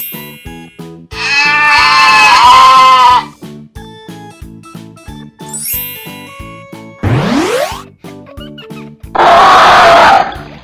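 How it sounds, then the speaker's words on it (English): A goat bleats loudly in two drawn-out, wavering calls, with tinkling bell-like chimes and a rising whistle-like sweep in between, and no one speaks. "It's a goat."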